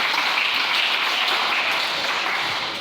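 A congregation applauding together at a church service, a steady, dense wash of many hands clapping that holds evenly throughout without any talk.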